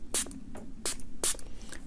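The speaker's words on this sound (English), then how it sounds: "I'm going to spray it one more time" Three quick hissing sprays of a water spray bottle, evenly spaced and close by, misting a watercolor painting, with a faint background hum and no talking.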